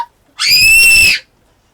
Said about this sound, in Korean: 비명 소리가 너무 무서워.